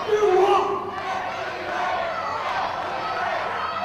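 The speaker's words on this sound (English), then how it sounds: "And the fans are cheering FWA." A wrestling crowd at an FWA event roars and chants for FWA, a loud swell of voices that settles into a steady hum of cheering with a commentator talking over it.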